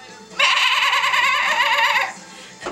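A person imitates a goat with one loud, drawn-out, wavering bleat of about two seconds, delivered close up and on its own.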